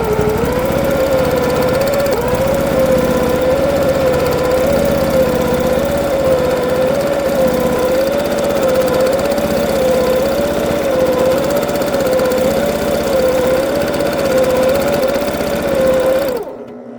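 Sewing machine free-motion quilting leaf shapes into an art quilt gives a steady, close whirring motor hum with a faint wavering tone. It runs continuously and alone, then cuts off abruptly near the end.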